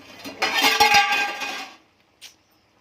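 Paneer butter masala being stirred in a cooking pan: a burst of scraping, clinking utensil-on-metal sounds for about a second and a half, close and fairly loud, then quiet with one brief clink.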